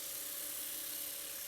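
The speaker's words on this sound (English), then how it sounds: "brushing it off on with the lathe spinning at a fairly high speed" A wood lathe spins at fairly high speed while Yorkshire grit is brushed off a wooden jewelry box piece, giving a steady, even whine with a constant tone and no breaks.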